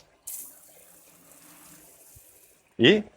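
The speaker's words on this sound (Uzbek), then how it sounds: "Xo'p, bu tarafimizda dush bor. Yoqib ko'rsatamiz." Shower in a summer and winter country house with a heated pool, switched on: a short burst of spray, then a steady stream of running water, ending in a sudden loud gush.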